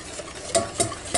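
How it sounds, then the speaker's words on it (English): A spoon stirs old-fashioned chocolate pie filling made with regular cocoa in a pot: three quick, close scraping strokes at a steady rhythm, with faint background noise between them and no talking. "I'll keep stirring it just for a few minutes."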